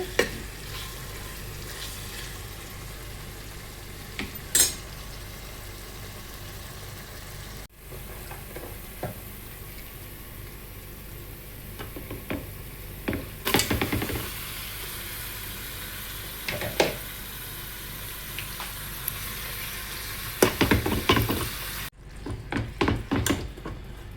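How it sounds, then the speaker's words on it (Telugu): Ginger garlic paste frying in a pan for a mutton and tomato curry, a continuous sizzle broken by repeated stirring and sharp scrapes and taps of a spatula on the pan. "అల్లం వెల్లుల్లి పేస్ట్ వేగే వరకు మనం నీట్గా ఫ్రై చేసుకోవాలండి"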